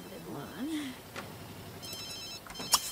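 A game telephone rings in The Sims 3, a short electronic ring that comes through late, faint beneath a voice talking over the game.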